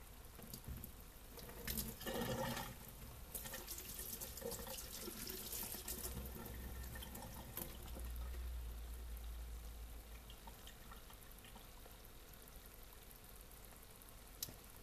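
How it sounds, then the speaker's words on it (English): A kitchen tap runs while hands are washed at the sink, a steady close splashing stream with shifting spatter as hands move under the water, fairly soft overall and continuing alone without talk. "To wash my hands."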